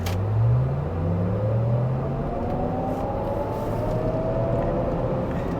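A Cadillac LYRIQ electric SUV accelerates hard from 0 to 60 on a road, giving a steady cabin drone of road and tyre noise with a faint motor whine rising in pitch throughout.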